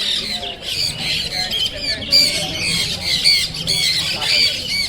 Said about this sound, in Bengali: এখানে সানকুনুরগুলো দেখো, এগুলো আমার এই সানকুনুরগুলো খুব পছন্দ